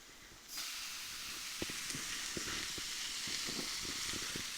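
Chuck roast meat hits a hot griddle for a Philly cheesesteak, bursting into a loud, steady sizzle and hiss close up, with scattered pops and crackles through the frying.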